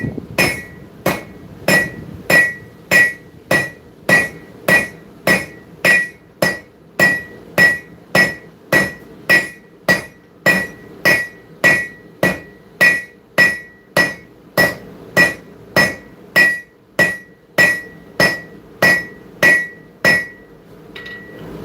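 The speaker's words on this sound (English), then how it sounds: "Using the horn and the round side of the rounding hammer" A rounding hammer strikes metal on the horn of a lightweight anvil in a live forging workshop, about thirty sharp ringing blows at a steady, even pace, close and loud, with bright metallic ring after each hit.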